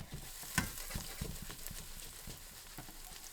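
Garlic in olive oil in a pan gives off a faint, close sizzle with soft stirring clicks and scrapes.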